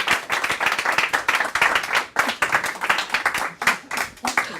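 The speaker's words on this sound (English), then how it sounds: "You must receive your applause." Audience applause at a comedy club night, lively clapping from a modest crowd with distinct individual hand claps audible in an uneven rhythm, close and fairly loud throughout.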